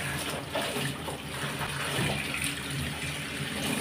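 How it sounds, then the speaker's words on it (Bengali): Cut taro stolons rinsed under a running kitchen tap, a steady close gush of water splashing over them for the whole stretch with no voices. "এখন এগুলো ভালো করে ধুয়ে নিচ্ছি।"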